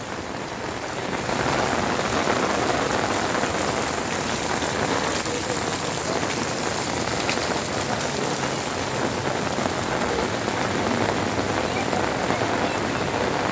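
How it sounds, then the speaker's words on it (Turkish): Heavy rain pours down steadily during flooding in Antakya, a loud dense roar of drops on surfaces that starts abruptly and continues unbroken without voices. "Bayramda beklediğimiz yağmur arkadaşlar bayramdan sonra oldu."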